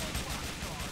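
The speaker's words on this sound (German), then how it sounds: "Da explodiert immer noch alles." Gunfire and explosions from the video game GTA: The Lost and Damned, a dense, continuous rumble of blasts and shots running steadily throughout.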